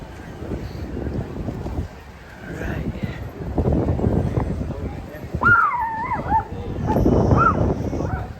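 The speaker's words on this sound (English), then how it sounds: "She barks at everything." A small, fussy dog whimpers and gives high yips and barks amid a busy RV show crowd, with people talking throughout and rumbling background noise.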